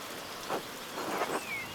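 Rain falls in the Pentiment video game as a steady hiss with a few brief louder swells, heard alone with no talk.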